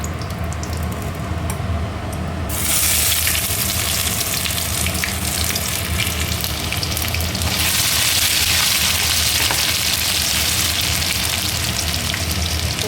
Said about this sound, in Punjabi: ਲਓ ਜੀ ਮੇਥੇ ਭੁੱਜ ਗਿਆ ਕੜੀ ਪੱਤਾ ਭੁੱਜ ਗਿਆ